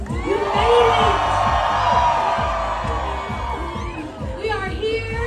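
A large Pride crowd in Los Angeles screams and cheers loudly and continuously, whoops and shouts layered over a rhythmic thumping beat, the roar swelling early and staying dense throughout.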